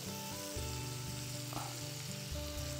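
Half a spoon of butter and some oil heat together in a pan, giving a faint, steady sizzle and crackle with low background hum, close and without talk.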